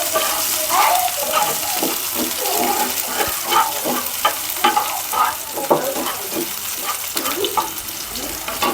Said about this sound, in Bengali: পেঁয়াজ রসুন দিয়ে ডালটা তেলে দিচ্ছি